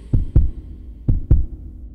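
A fast heartbeat sound effect in a dubbed action film: two pairs of deep, booming lub-dub thumps, close and prominent, with quiet gaps between them and no talking.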